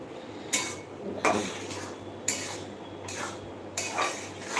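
Metal pots and utensils clatter and clink in a home kitchen while Bengali chana dal cooks, with several separate sharp knocks and scrapes spread over a low steady background hum.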